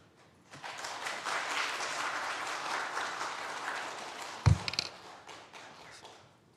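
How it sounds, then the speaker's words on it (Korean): A church congregation claps to welcome the pastor at a Sunday service, a sustained round of applause from many hands with a sharp thump partway through before the clapping fades. "목사님 나오실 때 우리가 박수로 함께 환영하겠습니다."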